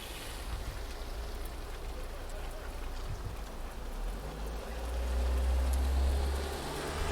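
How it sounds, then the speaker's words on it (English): Heavy autumn rain falls in a steady, dense wash close by, a constant hiss with a low rumble that swells louder toward the end. "the rain has definitely increased since I did the last update"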